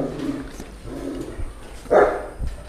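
Large dogs, Alabai and Great Dane, at a dog farm in Hai Duong, give a few deep, separate barks and woofs over about three seconds, close by and moderately loud, with quiet gaps between them.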